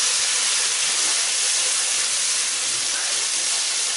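Steady loud sizzle of lamb chop curry frying in a pan as added tomato passata boils off, a continuous bright hiss without pauses or voices.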